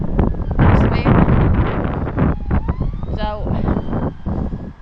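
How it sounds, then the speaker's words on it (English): A loud police car siren wails past at a park-and-ride in Martlesham, Suffolk, its rising and falling tone cutting through heavy wind buffeting on the microphone and nearby traffic noise. "So, if you ignore the loud police car."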